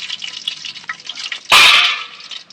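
Sliced onions dropped into hot oil with whole spices for chicken biryani, a sudden loud hiss and sizzle that bursts in midway and slowly settles, following quieter bubbling oil.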